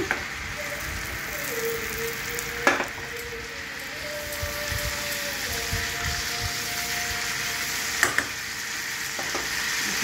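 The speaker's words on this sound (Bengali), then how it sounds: "এবার মাপ মতো জল দিয়ে দিলাম" Fish curry frying in a pan as water is poured in, a steady close sizzle and bubbling with a couple of sharp clatters of utensils against the pan; no voices.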